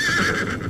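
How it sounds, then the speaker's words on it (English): A horse neighs loudly and close in a dramatized moorland chase, its whinny rising and falling over about half a second, with hoof clip-clop faintly mixed beneath. "My horse!"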